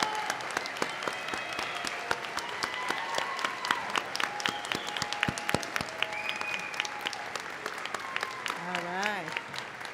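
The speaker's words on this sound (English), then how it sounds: "Give them a big round of applause." A large audience at the McHenry County College fall 2022 commencement applauds the honors graduates as they stand, with sustained, dense clapping throughout.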